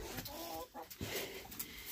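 Chickens in a farm coop on a winter storm day give soft, close clucks and short murmuring calls, a few brief bursts over a quiet background.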